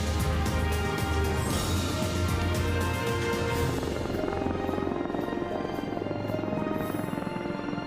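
Indian Army attack helicopters flying overhead during a firepower demonstration, a loud continuous rotor thrum and engine roar that holds steady throughout.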